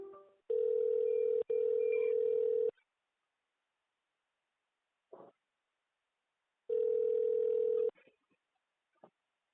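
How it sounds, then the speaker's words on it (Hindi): Telephone hold tones during a bank call transfer: two long steady beeps, a short pause and a third long beep, with brief faint clicks in between, clear and close on the line. "हम अपने फोन बैंकिंग अधिकारी को आपका कॉल ट्रांसफर कर रहे हैं। कृपया लाइन पर बने रहें।"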